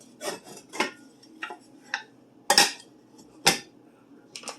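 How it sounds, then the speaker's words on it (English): A skillet handled on a stove burner gives several separate metallic clanks and scrapes, close and fairly loud, spaced irregularly with quiet gaps between them and no talking. "Grab your skillet and we're going to turn the burner on."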